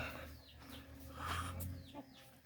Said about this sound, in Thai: พวกนี้ก็เป็นไก่สาวนะครับ ไก่สาวไก่นม